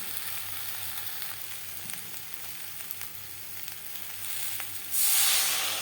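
Spices sizzle and fry in hot oil for a Bengali shing fish curry with potato and green banana, a steady crackling hiss with scattered pops that swells louder near the end as more goes into the pan.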